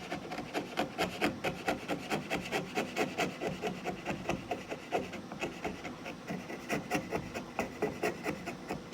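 A hand tool shaves wood against the grain in a steady series of rapid, raspy scraping strokes, close and moderately quiet, with a continuous rubbing rhythm and no speech.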